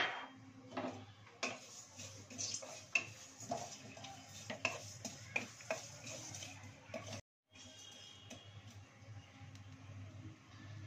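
Panch phoron spices frying in mustard oil crackle while a utensil clinks and scrapes against the pan in irregular taps, close and fairly quiet, no talking.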